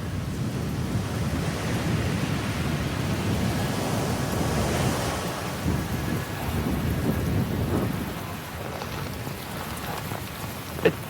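Torrential rain pours down in a dense, steady roar, with low rumbles of thunder rolling underneath and a sharp drop or knock near the end.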